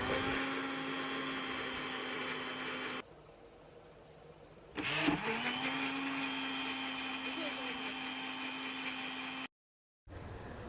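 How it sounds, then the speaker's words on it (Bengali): Electric blender whirring as it mixes yogurt lassi ingredients, a steady high motor whine that cuts out briefly, then restarts with a surge and runs on before stopping again. "সবগুলো উপকরণ একসাথে দেওয়ার পর ব্লেন্ড করে নিচ্ছি ভালোভাবে"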